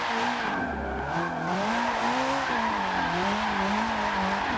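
A 4.5-liter V8 car engine in the Forza Horizon racing game roars steadily with rising and falling revs, while tires skid and squeal throughout, loud and continuous with no talking.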